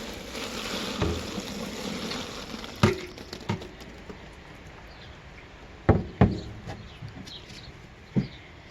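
Water pours from a watering can into a worm bin as it is started, a soft trickling wash broken by several sharp knocks and clunks, recorded close and fairly quiet.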